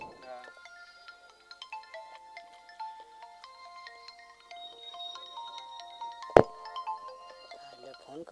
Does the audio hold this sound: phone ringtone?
yes